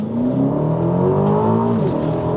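Aston Martin DBX SUV, 2023 model in Sport Plus mode, launching hard: a loud, close engine roar climbing steadily in pitch through one gear before dropping at the shift, with no talking over it.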